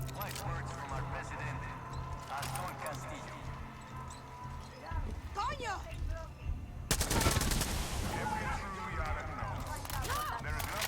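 Gunfire from a single weapon in the shooter Far Cry 6: bursts of rapid shots crackle through a busy combat mix, louder and denser after a sudden jump in level partway through, with a voice talking over it.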